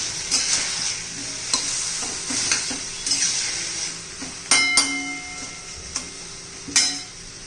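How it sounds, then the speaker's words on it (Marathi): Tomatoes for chutney cook in a pan with a continuous sizzle while a spoon stirs and knocks against the metal at regular intervals, the scrapes and taps close and clear with no talking. "आपण टोमॅटो शिजवून घ्यायचं आहे"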